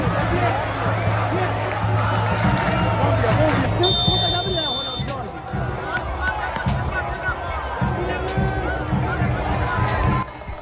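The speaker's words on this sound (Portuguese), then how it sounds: "a torcida do Belo se anima e começa a cantar mais alto no Almeidão" Botafogo-PB supporters at Almeidão stadium in a dense, sustained crowd roar with chanting voices and scattered whistles, loud and continuous throughout.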